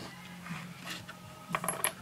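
Three pennies clink and rattle as they are dropped and handled for a homemade penny bomb, with a few sharp close metallic taps and a brighter burst of jingling toward the end, no talking.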